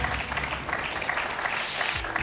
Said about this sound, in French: Et on va applaudir aussi Patricia qui a livré ces si belles batailles